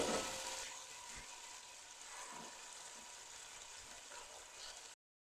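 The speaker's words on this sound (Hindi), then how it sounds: "अब इसके अंदर प्याज डाल देंगे और प्याज़ों को लाइट ब्राउन होने तक फ्राई करेंगे" Onions frying in hot oil for a moti pulao, a steady broadband sizzle that holds evenly for about five seconds, close and fairly quiet, then cuts off abruptly.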